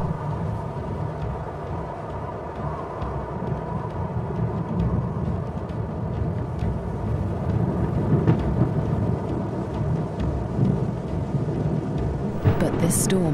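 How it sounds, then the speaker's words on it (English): An approaching thunderstorm over dry grassland rumbles steadily with low, rolling thunder and a broad wash of wind and rain noise, loud and continuous, swelling slightly toward the end. "A storm approaches."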